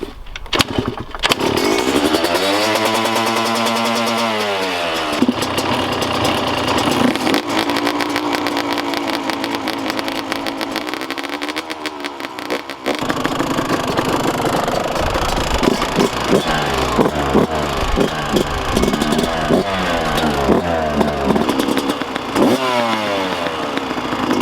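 2022 Yamaha YZ125 and Kawasaki KX125 two-stroke dirt bikes run up close, loud raspy idling broken by repeated throttle blips and revs rising and falling throughout.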